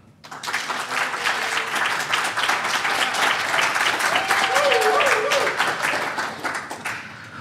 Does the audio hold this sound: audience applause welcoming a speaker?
yes